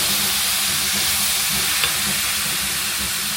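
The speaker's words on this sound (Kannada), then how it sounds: "ಹಾಗೇ ಇದನ್ನ ಒಗ್ಗರಣೆಯಲ್ಲಿ ಹುರ್ಕೋಬೇಕು" Chopped cabbage and grated coconut fry without water in a spiced oil tempering, producing a loud, constant hiss that stays close and unbroken.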